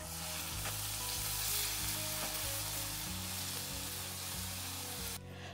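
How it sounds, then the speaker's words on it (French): A loud, continuous sizzle of battered elderflowers frying in hot oil, dense crackling hiss with a low hum beneath, no voices. "Puis, dans l'huile de friture bien chaude."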